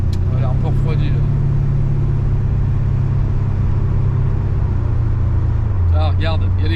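A Corvette C3 engine rumbles as the car accelerates on the road, a deep steady drone that shifts pitch partway through, with someone talking over it at the start and end.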